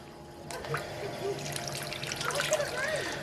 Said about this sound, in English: Just pump a bit of clean water again through that pump.